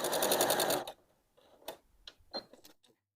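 A Janome sewing machine (3160 or 2030 model) stitches fabric while quilting with a guide bar, giving a fast, even mechanical whir close by for about a second, followed by scattered clicks and taps of handling.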